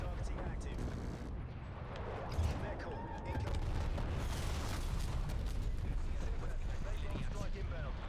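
Artillery and gunfire from the Call of Duty: Black Ops Cold War game, a dense, continuous barrage of booms and shots running the whole time, loud and steady, with voices talking over it.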